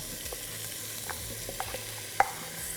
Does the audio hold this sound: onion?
yes